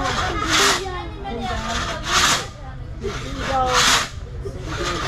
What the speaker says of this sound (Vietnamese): Một cái cưa rất là to